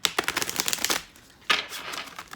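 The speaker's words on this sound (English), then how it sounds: "Let's see how they shuffle." A deck of oracle cards being shuffled up close, two quick riffling bursts of crisp flicking with a short pause between them.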